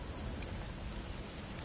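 Heavy storm rain in God of War Ragnarok, a dense, steady roar of downpour with no gaps, filling the whole moment with no voices.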